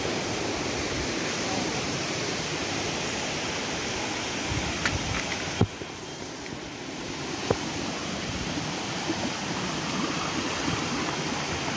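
Water at Devkund waterfall in Mayurbhanj district, Odisha, rushes in a steady, continuous roar that fills the scene, broken only by a few faint clicks.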